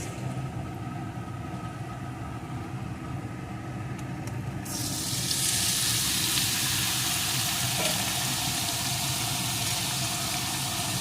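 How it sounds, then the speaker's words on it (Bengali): Marinated soybean chunks fry in a pan with sugar, a low sizzle that swells midway into a louder, steady hiss and crackle that holds to the end. "একটু নাড়িয়ে নিয়ে আমি ওই ম্যারিনেট করা সোয়াবিনগুলোকে এর ভিতরে দিয়ে দেবো"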